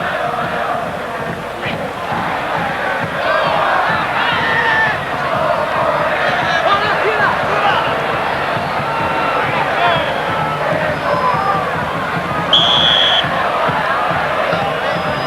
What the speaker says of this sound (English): What was a big and excited crowd, now a little bit subdued after that second goal.